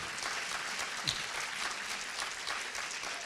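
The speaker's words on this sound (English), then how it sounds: "so I appreciate the applause" An audience claps at a film screening panel. The sustained, fairly faint applause holds steady throughout, with no clear voices over it.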